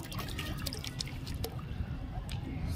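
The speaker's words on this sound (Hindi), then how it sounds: "ये रही कुंडेली और इसमें डालते हैं अब पानी।" Water pours steadily from a bottle into a bowl, a continuous close splashing trickle that runs unbroken throughout.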